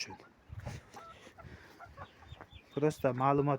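Large black Andijan chickens clucking nearby, scattered short clucks and rustling, ending in a louder, drawn-out vocal call.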